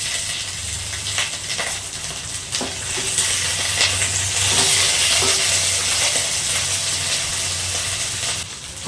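Dried chillies and curry leaves frying in a pan for Rayalaseema-style black-eyed pea rasam give a loud, close, steady sizzle, with scattered clinks and scrapes from stirring and no talking.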